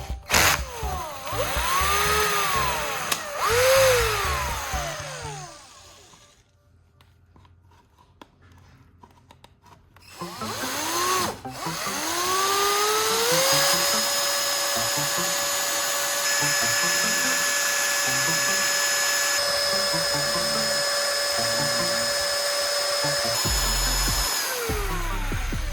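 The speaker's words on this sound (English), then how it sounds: "I start stirring evenly with the homemade tool, and the mixture gradually becomes uniform" A powered homemade stirring tool whirs steadily while mixing sand with PVA glue, starting in short bursts, pausing, then running long and even with a constant mechanical hum close by.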